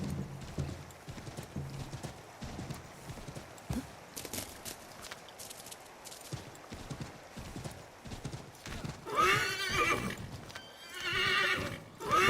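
A horse gallops in Assassin's Creed III Remastered, rapid hoofbeats pounding close by, followed by a loud neigh near the end.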